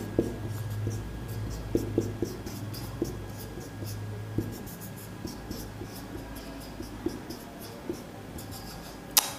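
Chalk or marker scratches steadily across a classroom board as a teacher writes a note during a world history lesson, with small taps and strokes in an uneven rhythm and no talking.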